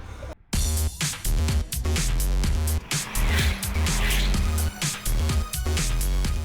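A Ford Focus RS with a 2.5-litre turbocharged inline five-cylinder engine drives hard with a loud, throaty roar, breaking into brief pauses at gear changes before pulling again.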